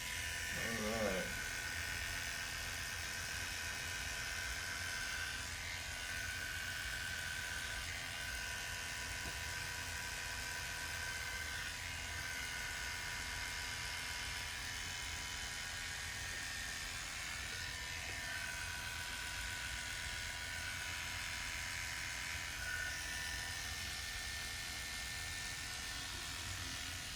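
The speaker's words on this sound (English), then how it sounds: "Let's start the shave." Electric hair clippers buzz steadily and close up while shaving a patient's head before an FUE hair transplant, a continuous motor whine with people talking over it.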